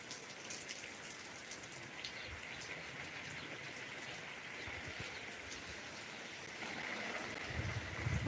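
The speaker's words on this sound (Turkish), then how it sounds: "Öyle yağmurlama yaparak güzel güzel sularım." A flower garden is watered with a hose set to a rain-like spray, giving a steady, soft patter of droplets on leaves and soil that grows slightly louder near the end, with no voices.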